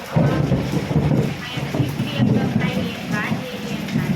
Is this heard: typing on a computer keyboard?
no